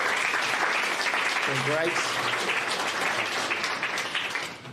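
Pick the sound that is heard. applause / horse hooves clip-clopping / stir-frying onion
applause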